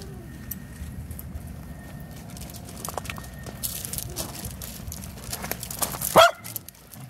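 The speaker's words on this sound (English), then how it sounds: "you don't even know what you're barking at" A dog gives a single short bark near the end, standing out over a long stretch of faint indoor rustling and background noise.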